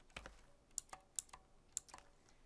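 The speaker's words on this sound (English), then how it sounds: "So here I would type in," Several crisp, isolated keystrokes on a computer keyboard, spaced irregularly as a name or entry is typed in, fairly close and quiet with no talking.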